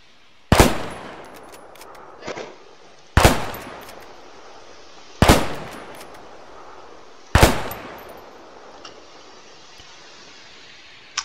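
Four loud Kar 98 bolt-action rifle shots in an Arma game with the RHS mod, spaced about two seconds apart, each a sharp crack with a decaying tail, plus a softer metallic bolt click between the first two.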